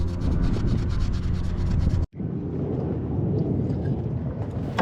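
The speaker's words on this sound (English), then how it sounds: "I'm using a scour pad and a blade to remove the old butyl compound." Scour pad and blade scraping old butyl compound off a boat's 50-year-old navigation light mounting, a continuous close gritty rubbing that drops out in a brief gap and resumes, slightly softer and rougher.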